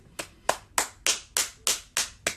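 Seven sharp hand claps in a steady, evenly spaced rhythm, close and crisp, with no talk over them.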